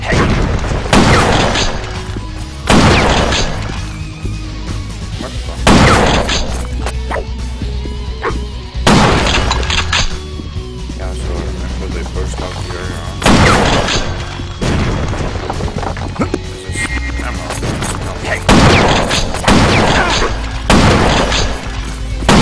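A weapon firing in the video game Will Rock, with heavy booming blasts repeating roughly every two to three seconds, loud and close, over a steady background of game noise.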